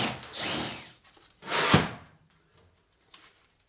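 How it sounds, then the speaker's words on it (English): A hole saw bores holes through a metal panel for a wood-fired hot tub water heater, giving two loud, rough drilling bursts of about a second each, followed by fainter clicks and handling noise. "all I need to do now is drill these holes out with a hole saw"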